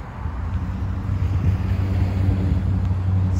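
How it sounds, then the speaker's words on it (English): Strong wind buffets the microphone on a cold, blustery day out on the ice, a steady low roar that fills the whole stretch with no voices. "Kind of a blustery day today. It's quite windy,"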